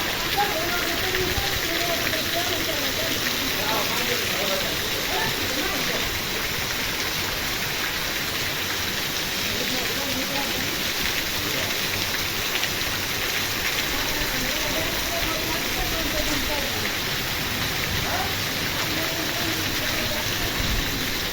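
A heavy monsoon downpour over farm fields on a windless day, a dense, steady roar of rain hitting surfaces with no gaps, loud and close, with a voice speaking at times over it.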